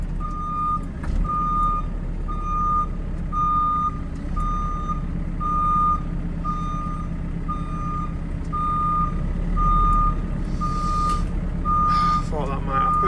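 A tractor, a John Deere 6215R on a farm, backs up with a steady, evenly spaced high reversing beep sounding over its loud engine rumble throughout, with a short extra noise near the end.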